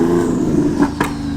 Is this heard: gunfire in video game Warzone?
no